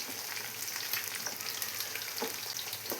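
A drumstick, mango and dal curry with ground coconut bubbles and sizzles in the pot as it is stirred, giving a constant close hiss with light scraping taps and no speech.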